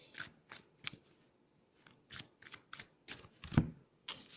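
Playing cards handled and spread out to draw one, a series of quiet, crisp flicks and rustles coming in irregular bursts with pauses between, close and with no voices.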